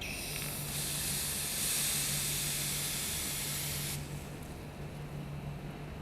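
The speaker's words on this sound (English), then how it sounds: "At the gauge port, slacken the hose connector and permit an escape of vapour for no more than 2 seconds" Refrigerant vapour escapes from a loosened gauge hose connector at an air conditioning gauge port as a loud, sharp hiss lasting about three seconds, then drops to a softer background hiss.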